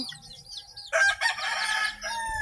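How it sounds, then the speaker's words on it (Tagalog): A free-range rooster crows loudly nearby in one long call, with soft clucking and chirps before it. "Ay may mga kasalubong naman tayong mga manok."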